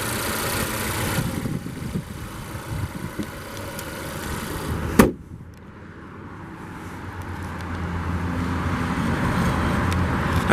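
A 2021 Volvo XC90 T5 R-Design AWD with a 2-liter turbo four-cylinder idles steadily with a low, even hum; a single sharp click or thump cuts in midway before the engine drone settles back.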